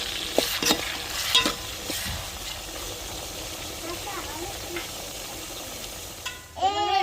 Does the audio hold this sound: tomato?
yes